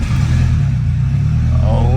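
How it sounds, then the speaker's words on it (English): A 2003 Honda S2000 with a titanium exhaust, just started by push button, holds a loud, steady, deep engine rumble close by for a couple of seconds. "that titanium exhaust sounds just killer on this car"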